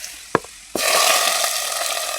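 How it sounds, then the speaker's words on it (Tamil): Hot tempering poured onto a home-grown spinach greens curry, a sudden loud sizzle that bursts in after a couple of small clinks and keeps frying steadily up close. "எல்லாம் தாளிச்சு ஊற்றியாச்சு"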